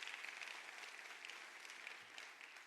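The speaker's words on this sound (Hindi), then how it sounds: "सर के लिए एक जोरदार तालियां।" Steady, dense applause from an audience at a network marketing training session, evenly sustained clapping from many hands, fairly distant and faint, with no one speaking.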